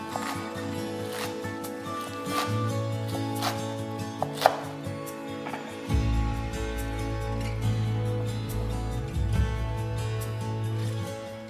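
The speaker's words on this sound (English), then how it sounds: "Roughly chop a small bunch of gailan, separating the leaves from the stalks." A knife roughly chopping a small bunch of gailan (Chinese broccoli) on a cutting board, separating leaves from stalks, giving close, fairly loud irregular chops and taps over several seconds with a low background hum.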